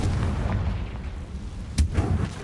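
A fiery Confringo spell blast in the Hogwarts Legacy video game: a sharp booming burst over a low rumbling background, with smaller pops following.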